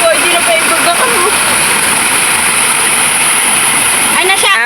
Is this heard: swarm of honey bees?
no